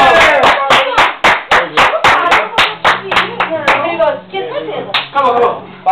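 A small group of people claps hands in a fast, steady rhythm, roughly fifteen sharp claps close by, with some people talking alongside.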